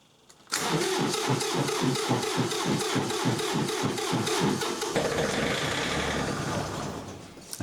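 A John Deere 3520 tractor engine cranking in the cold with a weak battery and fuel line trouble: about five seconds of rhythmic, loud starter churning that fails to catch, then a rougher rumbling hiss that fades out.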